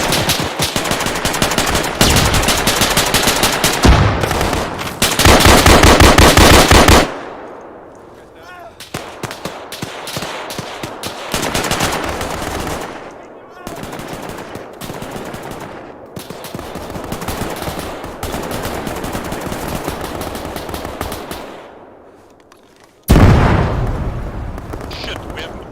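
Arma 3 military-sim combat: loud bursts of rapid machine-gun fire and scattered shots, then quieter stretches, ending with a sudden heavy grenade blast near the end. Voices talk between the shots.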